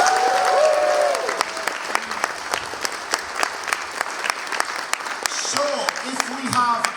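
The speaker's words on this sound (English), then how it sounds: "Big round of applause there for Scott." Applause from a convention panel audience at TFNation 2026, with many hands clapping in a steady, fairly loud burst that carries sharp individual claps, while someone talks and brief cheers and voices rise over it near the end.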